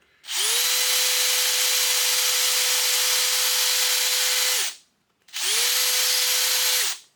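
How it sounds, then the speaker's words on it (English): A power drill pre-drilling wood for 4-inch screws whirs at steady high speed for several seconds, stops briefly, then spins up again for a shorter second burst, close and loud. "increase the size of my pre-drill without drilling into my hand"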